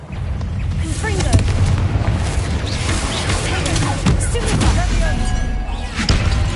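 A Confringo fire spell blasts in Hogwarts Legacy, a dense booming burst amid ongoing game noise, with a further thump near the end and a voice speaking over it.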